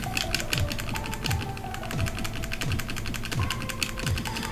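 Steady, rapid clicking of keyboard keys in the video game Splatoon 3 Side Order, an even rhythmic patter over a repeating musical background throughout.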